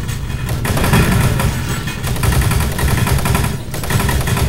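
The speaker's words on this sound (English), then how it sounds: "What's with the shooting?" Dense, continuous gunfire in the video game Doom 3, loud rapid shots layered over a rumbling game soundscape with no talk.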